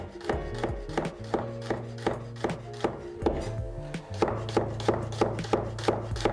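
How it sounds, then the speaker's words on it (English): A knife slices peeled garlic finely on a cutting board, with steady, rapid, close chops in an even rhythm, each stroke a crisp tap, continuing throughout with no talking. "And then we want to prep the garlic, so just peeling it and then just slicing finely."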